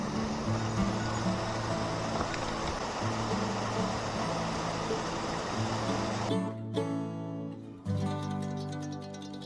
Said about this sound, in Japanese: ここは大曲の滝のようです。